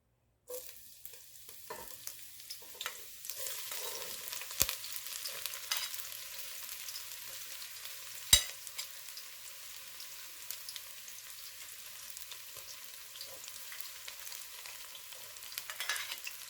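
Fish frying in hot oil for a Surinamese catfish curry, a steady broadband sizzle running throughout, close and moderately loud, with a few sharp pops and clicks standing out from the crackle and no talk over it.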